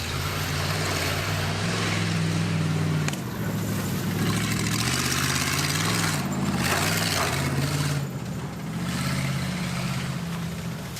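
A junker rally car's engine runs rough and loud at close range, a steady low droning growl that dips and surges in pitch a few times, with no speech.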